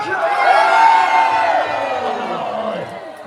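A large crowd at a Warwick Castle War of the Roses show cheers and whoops loudly, a sustained swell of mixed adult and children's voices that peaks early and then slowly fades.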